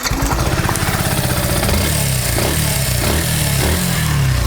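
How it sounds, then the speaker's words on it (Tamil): A Yamaha FZS 150 V3 BS6 motorcycle engine idles close by with a fast, throbbing rumble, loud and steady with slight fluctuations in pace. "இது வந்து இன்ஜின் சவுண்ட்."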